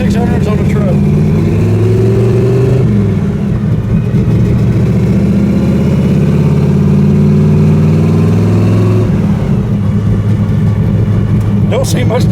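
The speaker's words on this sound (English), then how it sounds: "First time out on the street with the tunnel ram and the 2600s on the truck." Truck engine fitted with a tunnel ram intake and twin 2600 carburetors, driving on a street; a steady loud mid-pitched rumble with small rises in revs, heard from inside the cab, continuous throughout.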